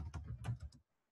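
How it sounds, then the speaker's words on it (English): A computer keyboard clacks under quick, quiet keystrokes, a short burst of about half a dozen soft taps that stops abruptly into near silence. "I'm going to type here"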